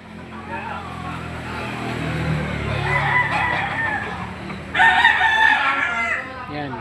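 Chickens and roosters at a poultry sale crow and cluck together in a busy yard, with a louder crow rising near the end, over steady background noise and murmuring voices.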